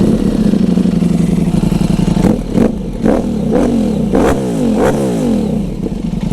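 A hot, already-warmed Ducati Streetfighter V4 S motorcycle idles loud and close, then gets several sharp throttle blips that rise and fall back to a rough, burbling idle.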